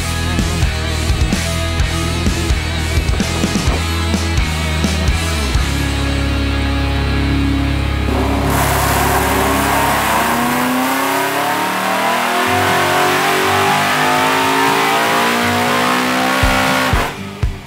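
A supercharged engine making over 500 kW at the hub revs hard and close. It climbs in pitch through repeated loud surges, then drops back as the revs fall, with a brief cut near the end and no speech.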